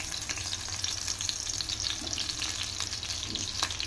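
Four or five garlic cloves fry in well-heated oil in a kadai, making a continuous close hiss and sizzle with a few soft stirring touches.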